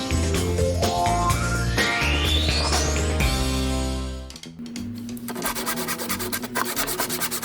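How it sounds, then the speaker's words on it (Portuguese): Wooden rafters being sawn to length for the posts of a climbing-plant trellis, a loud, steady run of rhythmic rasping strokes, then a pause and a renewed series of quicker, choppier strokes. "Comecei cortando os caibros que serviriam de coluna."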